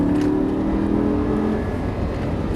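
A Lamborghini LP 560-2 on the Dreux circuit getting back on the throttle, a loud close engine drone holding steady pitch before easing slightly toward the end.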